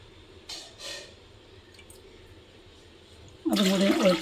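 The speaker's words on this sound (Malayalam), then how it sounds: "രണ്ട് ഗ്ലാസ് വെള്ളം ഒഴിക്കുന്നു." Water from a small glass poured into a Kerala-style mackerel (ayala) fish curry, a brief splashing pour near the end after quiet, fainter kitchen sounds earlier.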